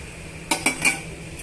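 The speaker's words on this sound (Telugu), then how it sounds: "ఈ సేమియాలో ఇలా వేసేసుకొని ఇవన్నీ కూడా బాగా మిక్స్ చేసుకోవాలండి" A spoon clinks three times against a metal pot while fried dry fruits are stirred into vermicelli payasam, sharp, close metallic taps over a quiet background.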